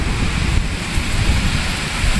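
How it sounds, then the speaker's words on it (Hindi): A fierce thunderstorm with strong wind and rain roars steadily, a dense loud rushing hiss with heavy low buffeting from gusts, continuous with no voices. "ये देखिए कितनी बिजली कड़क रही।"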